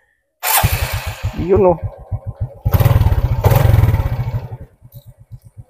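A 125cc motorcycle engine, powered by a LiFePO4 battery, cranks with a rapid starter whir, catches and idles with a close, pulsing putter, is briefly revved, then settles back to a steady idle; a voice counts just before it starts.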